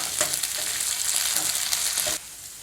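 Onions and ginger garlic paste sauté in a pan for an egg masala gravy, giving a close, steady, loud sizzle with stirring scrapes that eases off slightly near the end.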